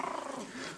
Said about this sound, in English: Is that a little growl?